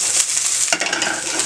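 Stir-fry vegetables, carrots among them, tossed in a hot pan, with a steady bright sizzle and a sharp flip-and-stir clatter midway before the frying hiss continues.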